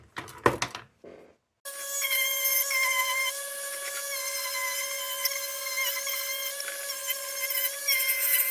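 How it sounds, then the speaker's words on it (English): A Dremel rotary tool working on an old C.T. Ham no.2 cold blast lantern starts after a few short knocks and then runs as a steady high-pitched whine, close and loud, with its pitch wavering as it grinds. "let's get the Dremel in here on that"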